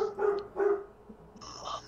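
A dog barks two or three times at close range indoors, followed by a higher yip or whine, moderately loud with no speech over it.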